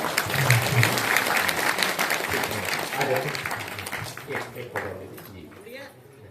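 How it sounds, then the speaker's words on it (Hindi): Enthusiastic applause from a crowd at a body and eye donation event at Kabir Ashram, Karhibhadar, loud at first and gradually thinning out, with voices talking over it. "एक बार जोरदार तालियों से सभी का"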